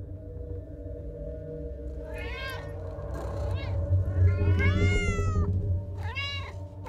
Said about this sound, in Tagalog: Bakit ang daming aso't pusa rito?